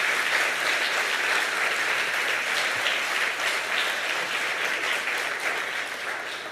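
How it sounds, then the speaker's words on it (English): Sustained, loud applause from a church congregation during a Sunday service, dense and steady clapping that fills the space for several seconds before easing slightly at the end. "can we please just give another round of applause?"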